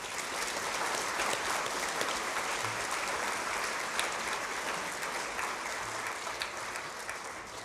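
Steady audience applause at a school awards ceremony honouring Year 4 to 11 students, a dense, even clapping that fills the room and continues without break.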